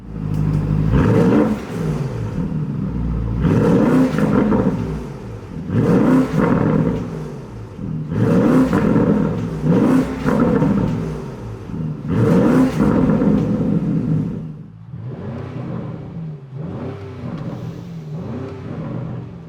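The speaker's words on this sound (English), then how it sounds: "the thing that sets this thing apart is how good the V8 sounds in the modern world" A Porsche Turbo GT's V8 engine revs repeatedly in sport mode, about six loud rising blips at a regular rhythm, followed by softer, lower revs as it settles.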